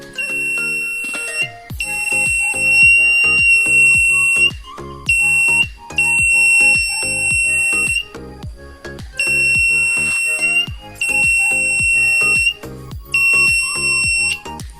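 Buzzer alarm from an automatic DC light circuit with an LDR sensor, sounding in loud repeated electronic bursts that start and stop in an irregular pattern, with short gaps between them.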